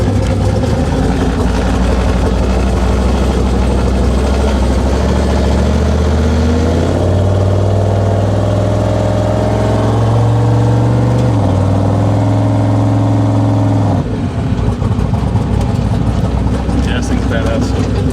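A 2000-horsepower Chevrolet TrailBlazer engine idles loudly and rises into revs, a deep rumble whose pitch climbs and falls, with voices talking over it at times.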